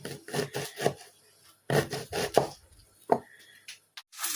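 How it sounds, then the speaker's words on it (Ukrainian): An ordinary kitchen knife finely chopping an onion on a board, delivered in quick bursts of close, crisp taps separated by short pauses, with no voices. "я звичайним ножем обережненько дрібню цибульку максимально"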